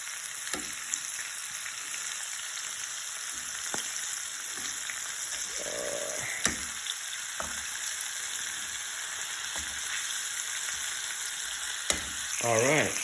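Duck fingers frying in a pan of oil give a steady, close sizzle, broken by a few sharp clacks and scrapes as the pieces are flipped, with a louder burst of crackle near the end.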